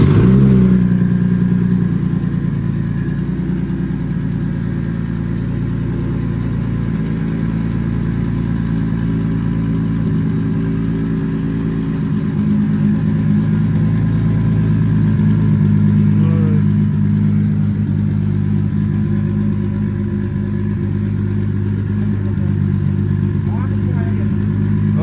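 A tuned turbocharged Toyota Altezza fitted with an 8HP automatic gearbox, its engine droning steadily and loudly throughout while being driven, with a voice talking over it.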